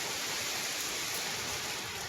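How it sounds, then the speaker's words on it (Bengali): Steady, dense hiss of heavy rain pouring down without pause, loud and close, with no voices. "দেখুন কত জোরে বৃষ্টি এসছে"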